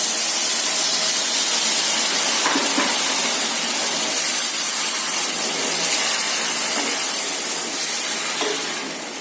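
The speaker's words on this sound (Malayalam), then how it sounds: "ഇതിലോട്ട് നമുക്ക് വിനീഗർ ഒഴിച്ചു കൊടുക്കും." Vinegar is poured into a hot pan of dates pickle, letting out a loud, steady, broadband steaming hiss that holds nearly constant and then begins to ease off toward the end.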